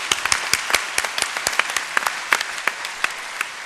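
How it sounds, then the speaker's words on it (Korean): Church congregation clapping for its shepherds, heard close and loud as a burst of sharp, distinct handclaps at an uneven rhythm rather than a blended roar, continuing steadily. "우리 크게 한번 수고한 목자들 박수를 한번 께."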